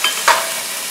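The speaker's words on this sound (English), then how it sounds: "add my ginger garlic green chili paste in it and let it cook very little" Ginger, garlic and green chili paste hits a hot pan for a mixed-vegetable pav bhaji curry, giving a brief broad sizzle with a sharp burst of frying hiss near the start, close and steady.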